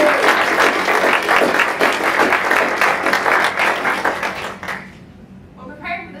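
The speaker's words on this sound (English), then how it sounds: "can we give the class of 2021 a round of applause for their efforts and hard work?" A graduation recognition ceremony crowd claps for the graduating class, a full, even wash of applause that holds strong, then thins and dies away near the end as a voice begins.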